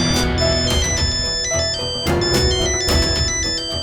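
A mobile phone rings with a call from home, a bright repeating electronic ringtone playing loud and close in regular pulses, with no other sounds over it.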